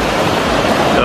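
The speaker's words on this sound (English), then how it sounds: "Those are pretty big waves, man." Big ocean waves roll in at a beach in Australia or New Zealand, a loud, steady broadband roar of surf that fills the whole moment without clear breaks.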